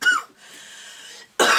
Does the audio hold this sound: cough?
yes